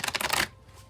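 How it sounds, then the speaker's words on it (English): A deck of tarot cards riffled briefly and close up, a quick burst of crisp flutter that stops abruptly and leaves near silence. "We will shuffle till the deck feels ready, and then I'll cut and deal right off the top"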